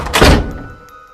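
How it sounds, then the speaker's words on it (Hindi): A door swung shut indoors, one dull thump at close range with a short fading tail, and no voices. "प्रतीक दरवाजा बंद करके अपने बेड पर लेट जाता है।"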